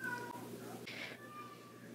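A house cat in heat lets out a drawn-out, wavering meow close by, with a sharper cry in the middle, over a quiet room.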